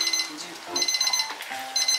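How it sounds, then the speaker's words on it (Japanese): An alarm clock rings in a home kitchen, a bright electronic beeping repeated in short bursts with brief gaps, fairly faint against a quiet room. "アラーム。"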